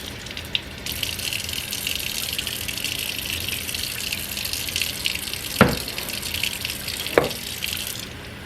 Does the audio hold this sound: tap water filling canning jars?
yes